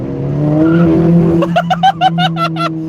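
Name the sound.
car tires spinning in second gear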